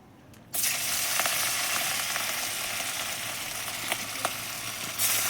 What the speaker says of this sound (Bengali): এত আগুনে মাছ ভাজা।